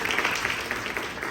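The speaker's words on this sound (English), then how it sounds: "let's give a round of applause" Brief burst of audience applause at a networking summit, dense and even clapping throughout with no talk over it.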